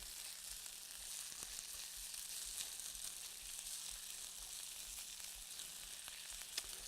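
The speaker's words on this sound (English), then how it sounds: "Boom, there goes the egg. And we just want to scramble it up in here." Egg scrambling in a pan of fried rice, a soft, steady sizzle with faint scraping and stirring clicks, quiet and close with no talking.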